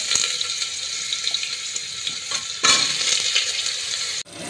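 Potatoes fry in hot oil with bay leaf and dried red chilli for a pumpkin curry, giving a steady close sizzle with a louder surge of stirring and scraping partway through. No one speaks.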